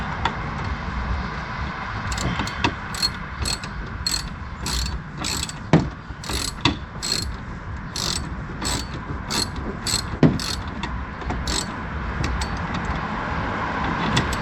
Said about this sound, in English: Now I'm going to use my socket wrench.